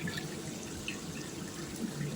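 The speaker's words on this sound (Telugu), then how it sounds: "ఇప్పుడు 1కి 2 నీళ్లు వేస్తాము" Water poured into a cooking pot while making chicken biryani, a steady close splashing and trickling stream running without pause and without speech.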